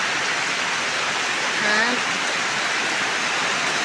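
Rain falls steadily in an outdoor rural setting, a dense even hiss that holds constant from start to finish. A brief voice cuts in once near the middle.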